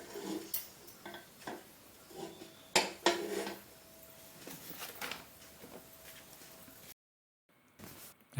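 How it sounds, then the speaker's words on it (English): Popcorn kernels rattle in a metal pressure cooker pot as it is shaken, irregular clinks and scrapes of metal and kernels over several seconds, then a brief silence before a last rattle. "Let's shake the pot a little bit."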